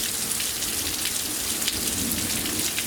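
Steady heavy rain pours down outdoors beside a house late at night, a dense continuous hiss with no clear thunder rumble standing out.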